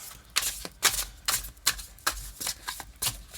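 Tarot cards being shuffled by hand, a series of sharp riffling bursts and slaps in an uneven rhythm, close and crisp with no talk.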